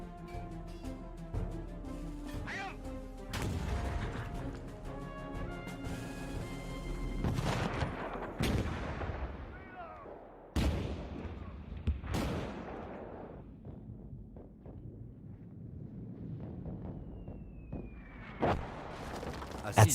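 Heavy artillery bombardment from cannons at the Battle of the Somme, 1916: several sharp booms with long decaying rumbles ring out at irregular intervals over a layered musical score.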